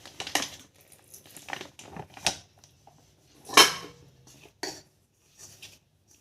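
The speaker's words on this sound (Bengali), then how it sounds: "এই আমরা ময়দাটা মেখে নিচ্ছি আটা ময়দার মিক্সচার" Flour dough with salt and a little oil is kneaded by hand, giving soft, irregular squishing and patting sounds with quiet pauses between them.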